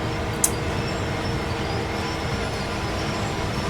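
A train in Train Sim World 5 rolls through a dense, constant rumble of wheels and rail noise, loud and close with no pauses, plus one short high squeal near the start.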